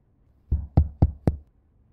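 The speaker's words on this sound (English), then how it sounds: "who's at my door?" Four sharp knocks on a bedroom door, evenly spaced and fairly close, sounding alone with no talk over them.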